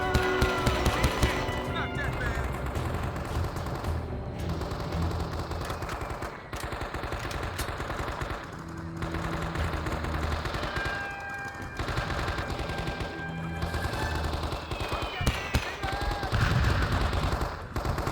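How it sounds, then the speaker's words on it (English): Sustained machine-gun fire and rattling gunfire fill the battlefield of the Vietnam War shooter Men of Valor, with heavy artillery blasts mixed in. The bursts are dense, loud and continuous, with a voice talking over them. "My god, that artillery."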